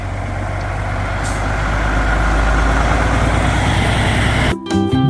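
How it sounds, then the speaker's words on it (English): Dump truck with air brakes, a loud steady diesel engine rumble close by that ends in a sharp hiss of brake air release near the end. "This is a dump truck."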